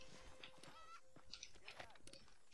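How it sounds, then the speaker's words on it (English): Faint hoofbeats and horse sounds from Red Dead Redemption on Xbox 360 as a horse is called and ridden, soft clopping mixed with game ambience and a quiet voice talking. "Let me just call for my horse."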